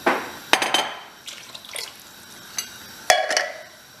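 About a pint of water is poured into a pan of curry, giving a few sharp splashes and sloshing bursts separated by quieter bubbling and stirring sounds, close and fairly loud.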